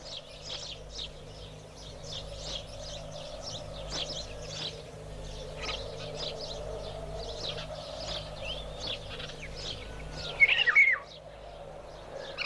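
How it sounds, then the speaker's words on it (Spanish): Sparrows chirp busily around their new nests on rooftops, a dense chatter of short, high tweets scattered throughout, with low background noise and a brief louder burst near the end. "Andan también los gorriones muy ocupados con sus bodas, con sus nuevos nidos."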